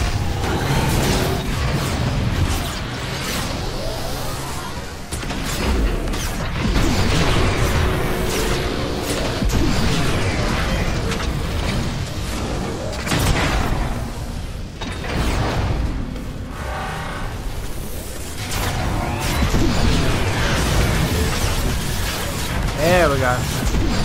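Gunfire and booming blasts aimed at the giant robot Omega Supreme in Transformers: War for Cybertron, dense and continuous, with shots, impacts and mechanical clanks layered over game music and voices talking throughout.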